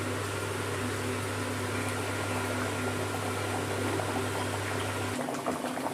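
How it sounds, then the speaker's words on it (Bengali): Dal with vegetables bubbling as it boils in a pot with tempering for Jagannath dalma, a steady, even simmering hiss and gurgle up close that cuts off near the end. "ডালটা একটু টকবক করে 2 মিনিটের মতো ফুটিয়ে নিয়েছি"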